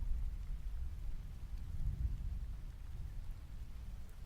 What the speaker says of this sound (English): You can customize the rain sounds, and people use them as like sleep aids.